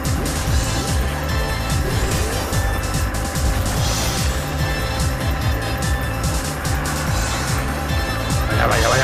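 Kart in Sonic & Sega All-Stars Racing drifting hard through a curve, with a loud continuous engine whine, tyre screech and game music, and a brief burst of extra noise near the end.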